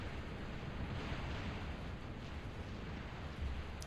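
Artillery fire and explosions rumble in the real-time strategy game Total Annihilation: Twilight, a dense, steady barrage of low booms heard faintly and continuously.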